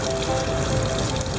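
Water sprays steadily, rinsing mud off the underside of a Honda NC700X motorcycle, a close, continuous hissing rush with no break.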